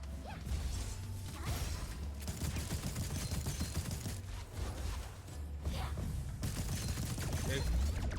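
Continuous rapid shooting in a fox fire bender video game, dense bursts of blasts and crashes layered with whooshes and mechanical effects, loud throughout, with a voice talking over it.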